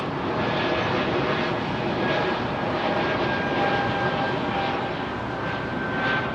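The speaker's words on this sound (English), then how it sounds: "Airbus A220." An Airbus A220 jet passes overhead with a steady, loud, broadband roar that holds evenly for several seconds, with no voices.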